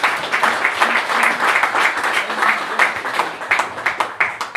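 Audience applause fills the room at a boxing press conference in Derry, a steady, dense wash of many hands clapping close by for the whole stretch, with no talk over it.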